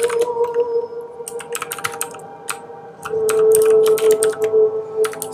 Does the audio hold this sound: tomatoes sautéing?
no